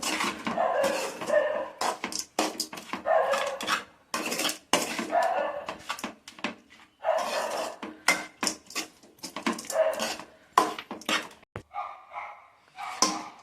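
Chitranna rice is mixed with spices in a metal pan, giving repeated close clanks and scrapes of a spoon against the pan in uneven bursts with short pauses between.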